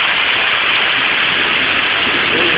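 Heavy rain with hail falling on Avenida Paulista in São Paulo, a steady, dense, loud wash of hiss that never lets up, with no voices.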